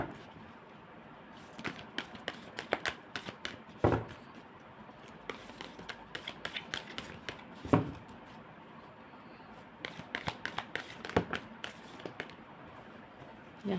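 Cards are shuffled and dealt in a quiet room, heard as close, soft snaps and flicks scattered in irregular clusters over a faint steady background, with no talk.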